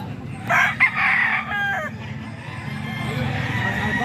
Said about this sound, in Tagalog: Ito pa, mga manok ni Bostoni.